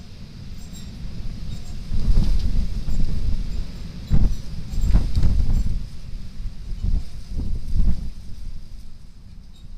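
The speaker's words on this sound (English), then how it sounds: "Oh, it's windy. Storm Freya." Strong Storm Freya wind batters a Yi action camera's microphone outdoors, a heavy low rumbling buffet that surges and dips in gusts for the whole stretch, loud and close.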